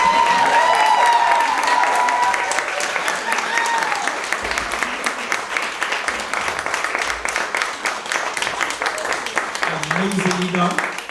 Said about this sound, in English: give a round of applause for everybody on the panel